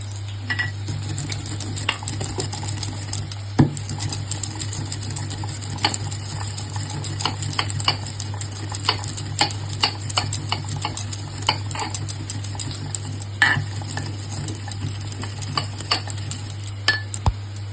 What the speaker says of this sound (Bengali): এটা আমি একটুখানি আমুল দিস্তায় গুঁড়ো করে নেব